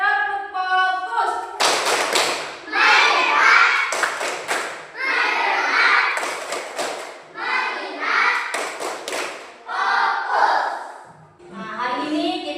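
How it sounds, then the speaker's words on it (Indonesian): Children in a classroom perform a rhythmic 'tepuk fokus' clapping chant, several sharp bursts of group clapping in patterned beats mixed with young voices chanting along, loud and close, separated by short pauses. "Tepuk fokus."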